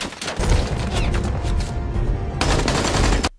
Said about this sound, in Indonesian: Penembakan berlangsung dramatis hingga akhirnya mereka berhasil menumbangkan orang-orang tersebut